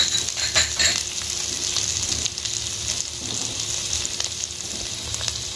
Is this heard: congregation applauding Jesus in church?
no